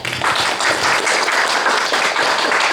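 An audience applauds after a talk on the Bhagavad Gita, a steady, dense wash of many hands clapping together, sustained at full level from start to finish with no voices over it.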